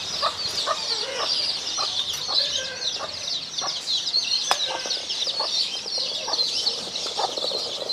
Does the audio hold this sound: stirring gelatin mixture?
no